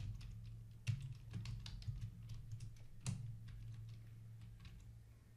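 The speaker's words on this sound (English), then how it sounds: "So just type in your password." Steady, soft clicking of fingers typing a password on a computer keyboard, with a few sharper keystrokes standing out over a faint room hum, and no speech.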